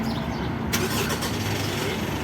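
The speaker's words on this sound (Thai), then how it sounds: "กดค้างไว้ประมาณสักสิบวิครับเดี๋ยวมันสตาร์ทเครื่องให้เลย" A 2022 Mitsubishi Triton pickup engine, started by remote, cranks and catches partway through, then settles into a close, steady rumbling idle.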